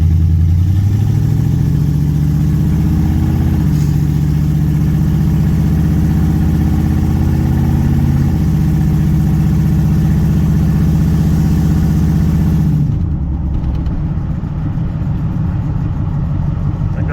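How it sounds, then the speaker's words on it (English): Van with a swapped 6.0 LS V8 engine driving, a loud steady engine drone rising in pitch and dropping at each automatic gear shift, then settling lower as it slows. "Let's see how the transmission shifts"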